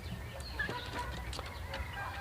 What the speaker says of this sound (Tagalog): May isang tandang ako dito na lalaking manok